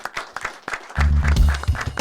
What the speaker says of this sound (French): On applaudit Kamel, c'était incroyable, merci.